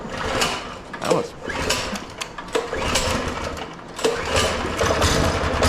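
A small minibike engine is choked and started, then runs with a steady, buzzy idle close by, with some mechanical clatter and a few spoken words over it.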